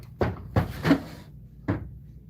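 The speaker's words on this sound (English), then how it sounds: "None of the drawers are sticky, and it's actually really great condition considering it's very old." Drawers of an old antique dresser opening and closing, several short wooden knocks and slides, close and fairly quiet, with no talk.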